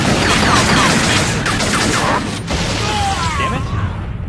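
Halo: Combat Evolved combat erupts with a loud grenade blast amid crackling gunfire and battle noise, the burst heavy and close before tapering into scattered mechanical clatter.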